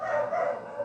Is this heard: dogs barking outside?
yes